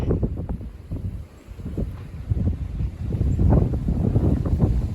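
Wind from an approaching Arctic weather front, a rough, low roar that swells and gusts against the microphone, close and fairly loud, with no voices.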